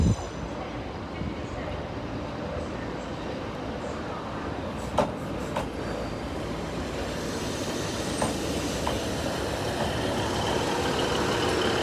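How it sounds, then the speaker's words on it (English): Northern train service from Leeds pulling into platform 3B at Sheffield station, a steady rolling rumble with a few sharp metallic squeals and clicks of wheels on rail, growing slightly louder as it draws in. "And into platform 3B, the 10:51 Northern train service from Leeds."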